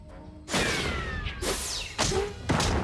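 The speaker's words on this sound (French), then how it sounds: "C'est un lance-roquette à spaghetti" A spaghetti rocket launcher fires a can of sauce: a loud, booming thud and rush that carries on, followed by further heavy thumps and whooshing blasts close by.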